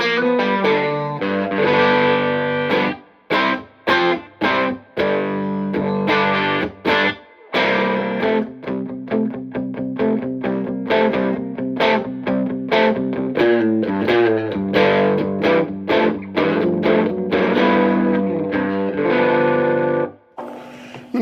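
Dirty Chicago-style blues licks on an electric guitar through a fuzz pedal, bridge pickup, played loud and alone for about twenty seconds, with choppy phrases broken by short gaps and sustained fuzzy notes.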